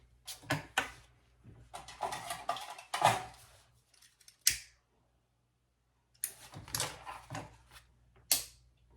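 Scissors cut through wax canvas for a zipper pocket on a small sling pouch, with close, crisp snips coming in quick bursts, then a short silent pause before more cuts.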